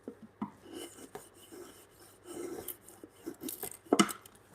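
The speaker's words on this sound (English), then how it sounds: "I'm just mesmerized by the sounds of the wood" A hand tool rasps and scrapes across timber in a home workshop where corner braces and a timber bunk bed are being built. The close, irregular strokes come in short bursts with small knocks between them.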